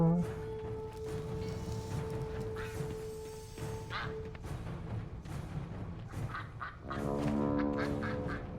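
Ducks in World of Warcraft give several quacks. They are scattered through the clip, some rising in a louder burst near the end, over game ambience, with a voice speaking intermittently.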